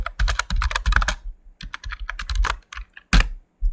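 Rapid clatter of a computer keyboard as code is typed for a JavaScript function, in quick bursts of keystrokes with short pauses between them, close and clear with no talking.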